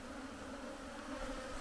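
Bees buzzing in a steady, continuous drone, close and fairly quiet, with no voices over it.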